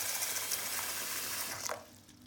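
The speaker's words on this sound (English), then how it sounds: "fill it to this half-liter mark, which will be about 16 ounces" Cold tap water runs steadily into a container being filled to the half-liter mark, a bright rushing splash that cuts off near the end, leaving quiet.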